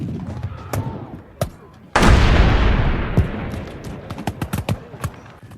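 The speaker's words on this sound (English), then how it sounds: "Knyphausen's artillery fires again." Artillery guns fire in a computer wargame of the Battle of Brandywine, one massive boom with a long rumbling tail, followed by a string of sharper, lighter gunshot cracks fading out.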